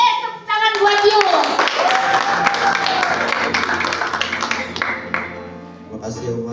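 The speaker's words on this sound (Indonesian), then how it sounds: "tepuk tangan buat yuk" Congregation in a church clapping hands together through a Sunday service moment, steady dense clapping mixed with children's voices and singing-like tones, fairly loud and continuous before tapering off.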